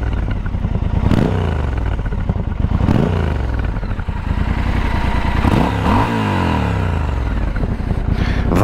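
A Triumph Scrambler 1200 XE motorcycle with a high-mounted exhaust rumbles loudly up close, its deep bassy burble rising in several revs that swell and fall back to a throbbing idle.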